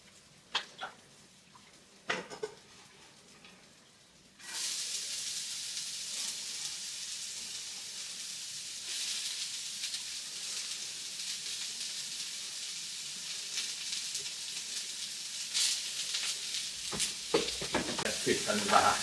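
Onions frying in oil in a pan while a curry sauce is made: after a few faint handling clicks, a steady loud sizzle starts abruptly and keeps going, growing a little stronger with occasional stirring scrapes.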